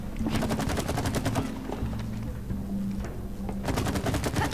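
Rapid, repeated gunfire from the co-op video game It Takes Two, loud bursts of shots that pause briefly in the middle and then resume over a steady game soundtrack.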